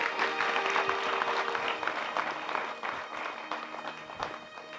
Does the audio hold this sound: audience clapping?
yes